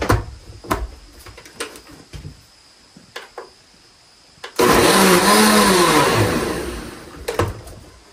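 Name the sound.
blender whirling goldenrod plant in vodka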